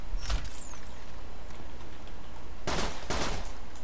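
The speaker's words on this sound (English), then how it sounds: "Jacob's pistol. Fire as fast as you can pull the trigger." A Jacobs pistol fired rapidly in Borderlands 2, a couple of sharp bright shots, one early and a quick pair later, over a low background hum.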